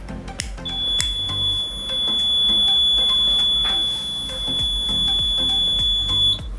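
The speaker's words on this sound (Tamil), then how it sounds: "இந்த பஸ்ஸர் வந்து அடிக்கும் பாருங்கள்." A homemade fire alarm science project sounds its buzzer, a steady high-pitched tone holding for about six seconds over a noisy, clattering room background, fairly loud and close.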